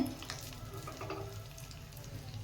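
Hot tempering with dry red chillies is poured into buttermilk for Uttara Karnataka style majjige saaru, giving a faint, continuous sizzle and crackle that fades slightly over a couple of seconds with no talk.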